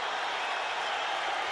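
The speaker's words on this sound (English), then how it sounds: "Crowd on its feet in proper tribute" Standing boxing crowd in an arena after Arturo Gatti vs Micky Ward 2, a dense, even wash of applause and cheering that carries steadily from start to finish.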